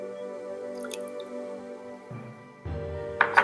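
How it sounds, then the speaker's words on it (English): Orbeez water beads drop into a bowl of hot water, giving a few soft wet plops and squishy drips over a steady background hum. "I'm about to put the Orbeez in the hot water"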